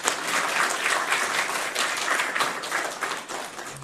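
A church congregation claps steadily to welcome a guest pastor at a New Year revival service, dense and sustained applause filling the room for several seconds.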